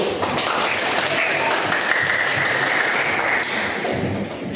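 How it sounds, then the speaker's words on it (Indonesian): Applause fills a classroom as pupils clap together in a dense, steady wash that holds at even loudness throughout, with faint voices mixed in. "Oke, tepuk tangan dulu"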